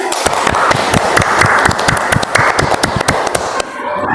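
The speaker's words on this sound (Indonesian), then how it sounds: "Tepuk tangan dulu buat Muti." A classroom of students claps for their classmate Muti, sharp close handclaps in a quick uneven patter that stops abruptly near the end.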